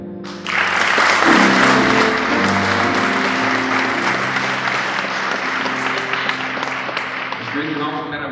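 Applause from a charity concert audience in Tõrva, a broad, sustained wash of clapping lasting throughout, with a voice speaking over it.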